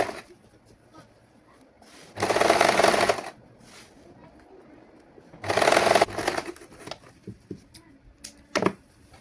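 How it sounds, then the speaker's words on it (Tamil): An overlock sewing machine stitches a prince-cut saree blouse in two loud bursts of steady whirring, each lasting about a second, with quieter handling sounds between them. "ஓவர்லாக் மிஷினால நாங்கள் தைக்கிறது"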